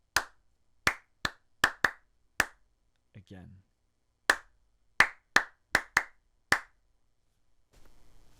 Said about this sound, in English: So I'm going to clap a pattern twice